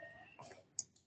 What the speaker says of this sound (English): Right click, new